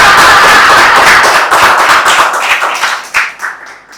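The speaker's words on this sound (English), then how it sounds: "let's give her a thunderous round of applause" A Toastmasters meeting audience breaks into loud, dense applause that begins full and steady, then gradually thins out and fades as the clapping tapers off near the end.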